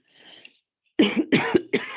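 Close-up coughing: a faint breath, then three sharp, loud coughs in quick succession.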